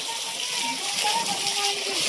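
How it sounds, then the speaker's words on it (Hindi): Water splashing and sloshing as people bathe in very cold water at a village river ghat with a small temple nearby, a steady watery wash with faint voices talking in the background. "और ये नहा रहे हैं इसके अंदर दीपचंद जी। और इतना ठंडा पानी है कि वो अंदर ही नहीं जा रहे।"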